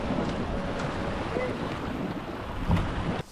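A sailboat picks up speed in a rising north wind off Quiberon, with steady rushing wind and water noise buffeting the microphone throughout and a brief louder splash near the end.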